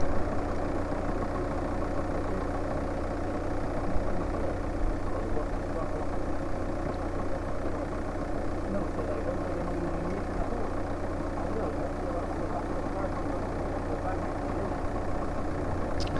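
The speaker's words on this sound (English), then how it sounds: "So now we need to try and see if by just cranking the engine over, the fuel pump pumps fuel or still air" A Citroen 2CV6 engine cranking over without catching, a steady continuous low mechanical drone that stays even throughout, with no firing or revving.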